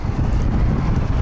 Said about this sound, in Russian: Ветрище просто дикий.